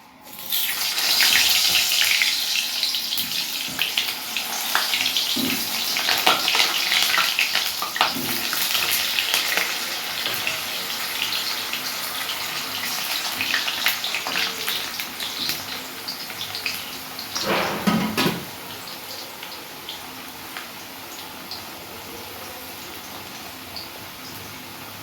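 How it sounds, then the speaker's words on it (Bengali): Potatoes dropped into hot oil in a kadai sizzle and fry with a steady broadband hiss, loud and close, fading to a quieter simmer near the end. "তেলটা গরম হয়ে গেছে, এবার আলুগুলো দিয়ে দিই।"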